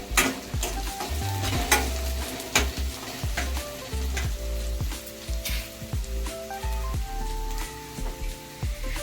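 Onion frying in oil in a pan for vegetable upma gives a steady sizzle with stirring scrapes, and a music bed plays along underneath.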